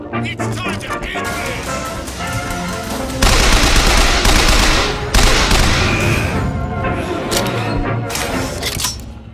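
Rapid gunfire from a weapon in the game BioShock Infinite, loud bursts of shots layered over game sounds and music, with a voice speaking in the background at times.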